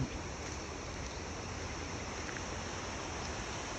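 Steady rushing of a river in rural Japan, a constant broadband wash of flowing water, close and unchanging over a few seconds.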